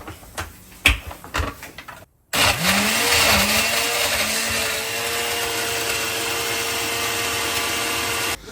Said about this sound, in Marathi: आता हे आपल्याला सगळं ब्लेंड करून घ्यायचंय ब्लेंडरला